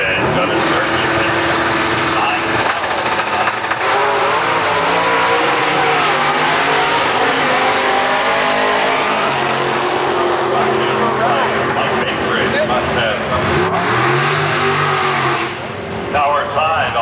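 A 1995 Ford Mustang and other drag race cars launching at Milan Dragway during a Super Ford event, a loud sustained engine roar with revving swells across the whole stretch, a public-address announcer talking over it.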